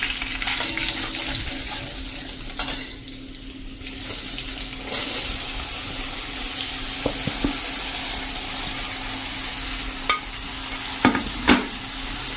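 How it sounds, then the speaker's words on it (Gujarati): Chopped sponge gourd going into a pan of frying masala with turmeric and being stirred, a continuous hissing sizzle with a few sharp utensil clinks near the end, close and steady, no speech. "તો હવે આપણે આ જે ગલકા સમાર્યા છે ને એ નાખી દેશું।"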